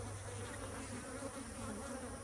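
Dense, steady buzzing of honey bees at an open, queenless hive during super changes, a constant drone with no breaks, fairly soft and unbroken throughout.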